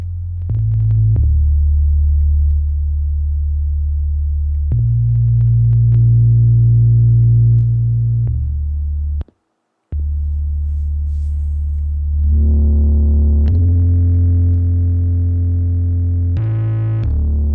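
A sustained, buzzing synth-like tone with harmonic overtones, processed through a SansAmp distortion plugin, shifts pitch in steps, growing gritty and distorted, with a brief dropout midway.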